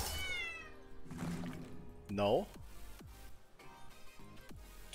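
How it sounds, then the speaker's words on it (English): A cat meows in a short series of rising, wavering calls, fairly close and clear, set against a video game's background sounds with brief thumps and effects. "Cat."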